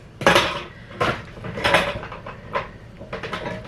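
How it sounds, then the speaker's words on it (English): A metal Allen key drops into a sink full of wet dishes, setting off a string of sharp clattering clinks against crockery and cutlery, several distinct hits spread over a few seconds, close and loud. "That was an Allen key. And it just fell into my sink of wet dishes."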